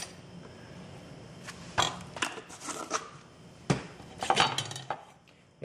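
A knife slices okra into half-inch chunks on a cutting board, giving a few quiet, irregular chops and taps with pauses between them.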